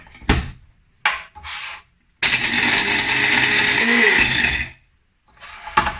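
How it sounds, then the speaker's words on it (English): A few sharp rattling knocks, then a stick blender roars loudly for a couple of seconds while grinding crunchy sun-dried tomatoes, and stops. More brief clatters follow. "blitz it up with my stick blender here"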